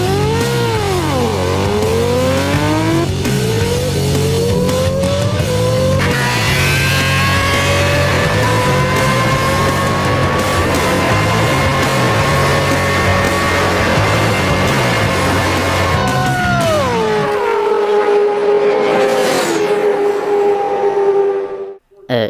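A Kawasaki ZX-10R superbike of about 200 horsepower accelerates hard at high speed, a loud screaming engine climbing in pitch through the gears with sharp shifts, then dropping off abruptly near the end.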